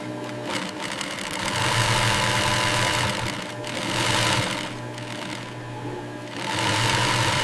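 An industrial sewing machine stitches seams in white horse leather on a factory floor, a loud rapid mechanical whir that surges and eases in bursts as it runs.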